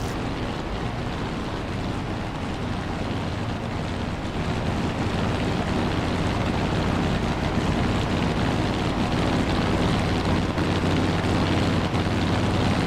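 A piston-engined warplane roars at full throttle in the DCS flight simulator, a loud, steady low drone with a rising wash of noise, continuous throughout and free of talk.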